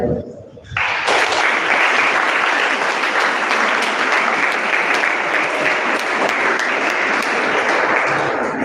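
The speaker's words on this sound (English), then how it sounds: "Let's give a big round of applause" A large audience at a school award ceremony breaks into loud, sustained applause after a brief moment of quiet, dense clapping continuing evenly and close by without letup.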